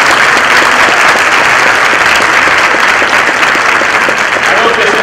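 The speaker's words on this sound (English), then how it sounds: "If we could have another round of applause for the students." An audience claps steadily and loudly for the full stretch, a dense, even wash of applause with no pauses.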